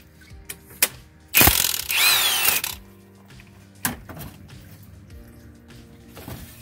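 A ratchet works loose a head bolt on a 2010–2015 third-generation Toyota Prius, reached through the wheel well: a few sharp clicks, then a dense burst of rapid ratcheting lasting about a second, followed by scattered knocks and clicks.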